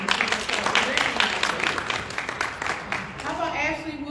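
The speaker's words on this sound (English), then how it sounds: "Okay, Miss Cora, we're gonna give you a little applause in your absence" Audience applause at a women's history month luncheon held by an NAACP branch, a steady dense patter of many hands clapping throughout, with a voice talking over it.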